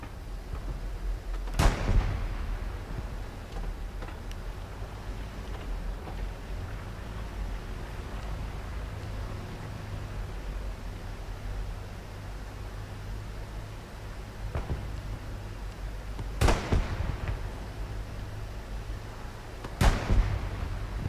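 Artillery bombardment in a video game: three sharp, distant blasts land at spaced intervals over a low, constant rumbling background.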